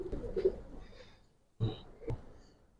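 Giribaz racer pigeons in a coloured flock give low, throaty coos in two short bursts separated by a quiet gap, close by and moderately loud.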